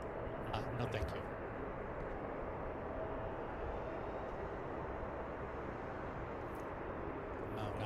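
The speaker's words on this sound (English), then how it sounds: "There goes our Turkish flight." A Turkish Airlines plane at Seattle airport produces a steady, distant jet roar that holds evenly throughout, with faint voices and a few light clicks at the start and end.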